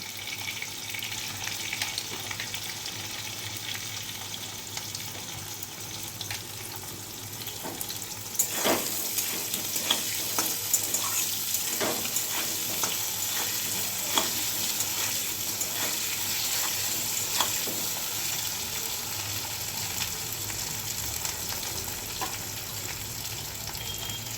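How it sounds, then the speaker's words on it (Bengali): Potatoes seasoned with salt and turmeric fry in a pan, giving a low continuous sizzle with a run of clicks and scrapes from stirring partway through, then settling back to a quiet steady crackle. "একটু লবণ আর একটু হলুদ দিয়ে আলুগুলোকে ভেজে নেব।"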